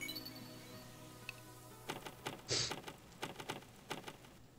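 Scattered clicks of typing on a computer keyboard, irregular keystrokes close by in a quiet room.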